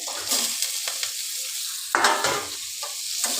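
Potatoes and broccoli are tossed with spices in a hot pan, a continuous close sizzle broken by scraping stirs and a louder spatula push partway through.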